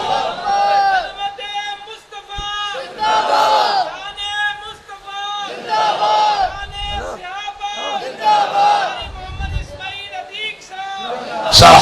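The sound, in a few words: crowd shouting religious slogans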